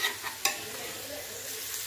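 Fresh green peas being roasted and stirred in a pan for khichdi, giving a steady, close sizzle with a few sharp scraping clinks from stirring early on, and no talking.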